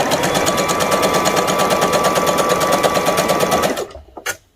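A sewing machine runs fast and steadily while stitching ladies' trousers, a loud continuous whirring that stops abruptly near the end, followed by a couple of faint clicks.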